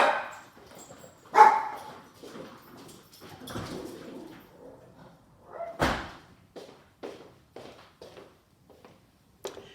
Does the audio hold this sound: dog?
yes